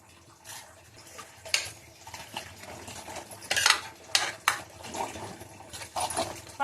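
Boti (tripe) frying in oil in a pan, with irregular scraping and clinking of a utensil stirring against the pan and a soft sizzle underneath.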